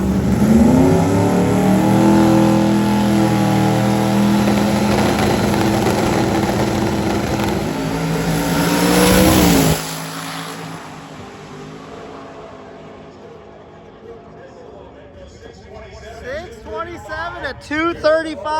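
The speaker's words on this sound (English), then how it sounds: "we're going to see him make a pass here right shortly" A drag race car making a pass at Drag Week, its engine roaring loud and steady for about ten seconds with rising revs before cutting off abruptly, leaving a quieter background where people talk.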